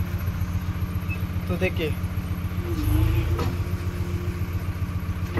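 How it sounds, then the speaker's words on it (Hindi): A JCB backhoe engine idling nearby with a steady, low mechanical rumble throughout, while someone talks over it. "पहले देखिए अभी बिना आरपीएम के बताता हूँ मैं, आइडल पे है मशीन।"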